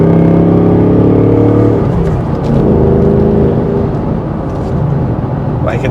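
A 2024 Ford Mustang GT Premium with a manual gearbox accelerates from inside the cabin, a loud steady engine drone with a gear change partway, then rising revs that stay strong to the end.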